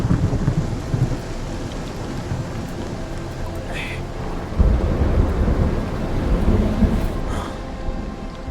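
Steady heavy rain pours down while deep thunder rolls and swells loudly through the middle of the storm, with no one speaking.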